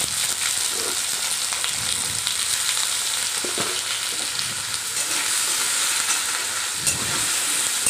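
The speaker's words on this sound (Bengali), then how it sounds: "এবার ওই তেলে আলু টুকরো করে কেটে রেখেছিলাম, একটু নুন দিয়ে ভেজে নিলাম" Cut potato pieces frying in hot oil with salt, a dense, steady close sizzle with occasional soft stirring scrapes throughout, no voices.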